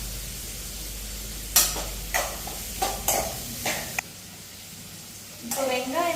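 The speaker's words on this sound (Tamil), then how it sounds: "ஒரு பெரிய சைஸ் வெங்காயம் போட்டுக்கலாம். இது கொஞ்சம் கலர் லைட்டா டிரான்ஸ்பரண்ட் ஆகிற வரைக்கும் வதக்கினா போதும்" Sliced onions sautéing in a pan for a home-style tomato chutney, a soft steady sizzle broken by several sharp scraping stirs of a spoon, close and quiet, with a voice briefly at the end.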